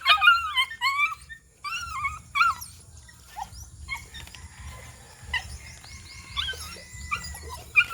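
Dogs at a rural home yelp and whimper in short high bursts, fairly close, with gaps of quiet and a low background hum between the calls.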